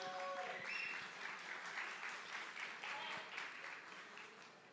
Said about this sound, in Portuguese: Salva de palmas, senhoras e senhores.